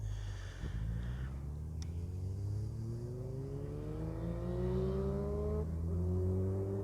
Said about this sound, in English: there's a car with a huge exhaust going past